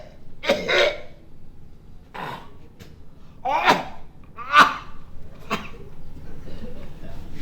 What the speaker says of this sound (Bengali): এবার জোরে একটা কাশি দিয়ে আমরা স্যাপ ফেলা